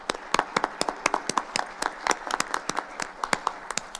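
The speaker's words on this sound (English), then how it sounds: "Let's give them a big round of applause." A small audience at a school board of education meeting claps for the music department: distinct, separate hand claps in a quick, uneven patter, fairly close and clear against a quiet room.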